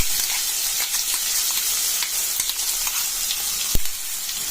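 Ground masala paste sizzles loudly in hot oil in a kadai, a dense crackling hiss with sharp spatters and a few clear stirring knocks, one louder clack near the end.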